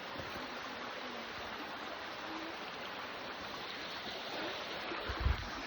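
Creek water flows in a steady, broadband rush from a nearby stream, continuous throughout, with a brief low thump near the end.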